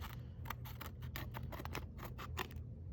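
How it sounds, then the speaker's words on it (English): Scissors snip the loose edges off a paper craft in quick irregular cuts, a run of close, crisp clicks and slices over a quiet background, with no talking. "take a scissors and trim"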